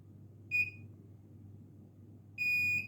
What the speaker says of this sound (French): Voilà, vous voyez, deux verres, un seul bip